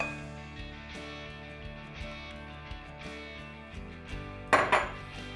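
Egg, vegetable oil and buttermilk being mixed in a bowl for cornbread, with steady clinking and scraping of a utensil against the dish, building to a couple of sharper, louder clinks near the end.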